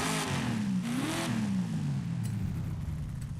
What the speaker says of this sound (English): with the aftermarket intake, I hear the engine more and supercharger less